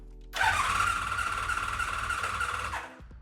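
Motorcycle electric starter held down during a compression test with the engine kept from firing, a steady loud whirring crank that starts abruptly, runs about two and a half seconds, then cuts off.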